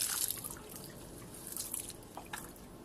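Water drips and trickles after watering bokashi fertilizer, soft irregular splashes and patters over a faint background hiss, fairly quiet and close.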